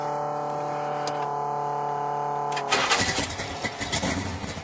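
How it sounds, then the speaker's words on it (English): A car engine cranks over with a steady tonal whine, then catches at about three seconds and roars into a rough, loud, sputtering idle close by. "Turn the ignition on. Give it fuel."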